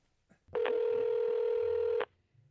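A phone dialing a call to a company line, heard as one loud, steady dialing tone held for about a second and a half, with faint room noise before and after and no talking.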